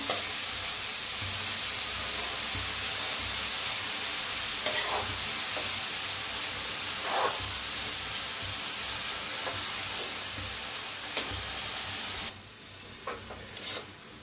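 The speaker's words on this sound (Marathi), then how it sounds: "आता ह्याला बी फिरवून घेऊया भाजीला छान असं।" Washed dill greens (shepu bhaji) stir-fried in a hot pan make a continuous close sizzle broken by occasional scraping stir strokes, dropping to a quieter hiss for the final seconds.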